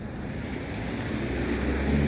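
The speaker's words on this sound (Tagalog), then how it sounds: "May kunting hangin ngayon," Steady, soft wind rushing outdoors, a continuous low whoosh with no breaks or voices.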